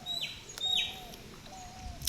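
Small birds in a fruit tree give a few short, bright chirps and high whistled calls, spaced irregularly over a soft outdoor background at moderate distance.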